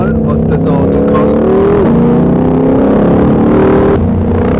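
A 2020 Ford Mustang Shelby GT500 with manual gearbox accelerates hard, its engine note rising in loud sustained pulls with a gear change midway, heard from inside the car.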